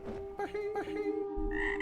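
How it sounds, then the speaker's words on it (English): A single frog croaks inside the video game Noita, a short burst of game sound effects with a tonal hum beneath and a brighter chime near the end, nearby and fairly loud. "Was that a single frog?"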